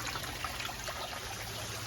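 A steady, continuous trickle of water spills from the top of a homemade aquaponic system down into its reservoir, close by and unbroken, with no voices.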